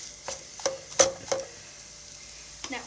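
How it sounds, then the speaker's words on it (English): Breadfruit being stirred as it fries in oil in a pan: a few close wooden scrapes and knocks at uneven intervals over a faint sizzle, with no voices. "Give that a stir"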